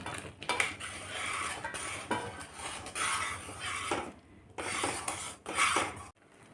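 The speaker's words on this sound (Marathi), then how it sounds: "आणि छान व्यवस्थित मिक्स करायचं आहे आपल्याला" A spoon scrapes and clinks around a pan while masala and kalonji are mixed into sweet-sour lemon pickle, in soft, steady bursts of stirring with brief pauses between them.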